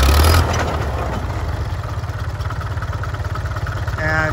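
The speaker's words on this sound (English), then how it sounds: "1948 International TD6 is now running" A 1948 International TD6 crawler tractor engine runs at a steady low rumble, a loud, close, even throb that briefly swells at the start and end.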